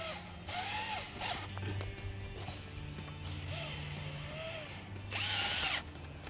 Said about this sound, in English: there's 2 screws on the back that we're going to secure the top to the side bow